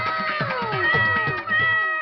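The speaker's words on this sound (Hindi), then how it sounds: "भैया वहाँ देखो, प्यारी सी बिल्ली जाल में।" A cat trapped in a net meows insistently, several drawn-out, close, wavering cries in quick succession with strong tonal wails, loud and alone without talk.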